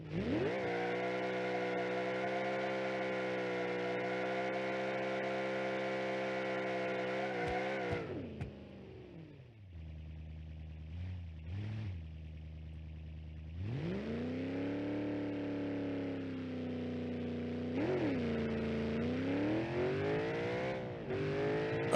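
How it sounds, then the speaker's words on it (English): A Bullite car engine in the BeamNG.drive video game holds a loud, steady high rev, drops briefly to a rough idle with a few blips, then climbs back up through rising revs. "this is what a Bullite engine should sound like"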